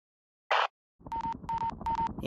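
A phone is dialed in the Henry Stickmin video game: a brief burst of sound, a pause, then three evenly spaced tones with an electronic hum underneath, clear and close.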